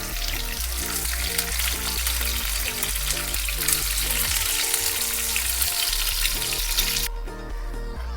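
Katla fish pieces fry in hot mustard oil, a loud, steady sizzle and crackle close up that continues throughout, with faint clinks of stirring and no talking.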